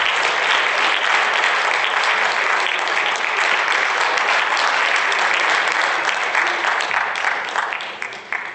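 An audience at an EDSU-Africa Day conference applauds to welcome a speaker on stage, sustained dense clapping holding steady and loud before tapering off at the end.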